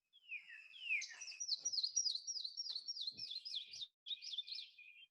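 A warbler sings a slow, descending song of thin, high, repeated notes that slide downward in a steady series, then a short final phrase after a brief pause, heard clearly and alone.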